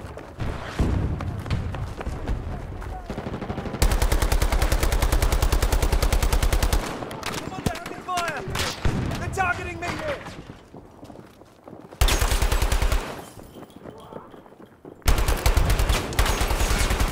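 Dense gunfire in Battlefield 2042 gameplay: loud sustained bursts of automatic fire and rapid single shots, with thuds and explosions between, and a voice shouting over the combat.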